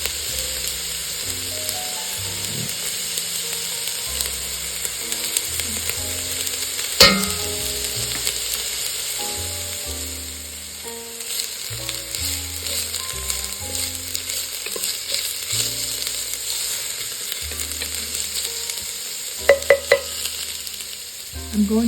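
Garlic sizzles steadily in a hot pan for pumpkin black bean soup, a continuous close frying hiss with stirring scrapes and a few sharp clinks of a utensil against the pan.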